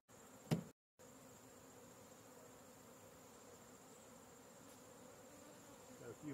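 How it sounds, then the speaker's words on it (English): Steady, close buzzing from honey bees hovering at a beekeeper's veil, a constant drone with a brief dropout early on. "Got a few bees that are here at my veil telling me they're not too happy with me"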